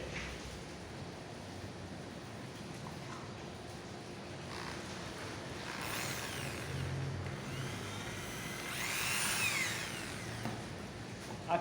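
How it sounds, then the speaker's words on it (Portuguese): Electric drill boring holes through cardboard for a homemade paper bonfire, steady whirring with two louder surging bursts near the middle and end, close and alone without talk. "Vou pegar a furadeira, né,"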